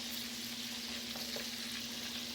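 Gravy simmering with meatballs in a pan gives a steady, quiet sizzle and fry hiss, with a constant low hum in the background and no talking.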